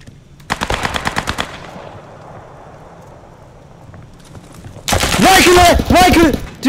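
Automatic machine gun fire in the WW2 shooter game Post Scriptum on the Carentan map, with a rapid burst of loud shots, a lull of ambient noise, then another heavy burst with voices shouting over it.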